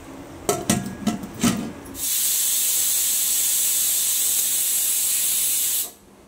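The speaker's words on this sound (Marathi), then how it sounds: "आता आपण ह्याला कुकरला झाकण लावून 3 शिट्ट्या काढून घेणार आहोत" A pressure cooker lid on a pot of mutton lets out a loud, steady hiss of steam lasting about four seconds, preceded by a few brief knocks and scrapes before it cuts off abruptly.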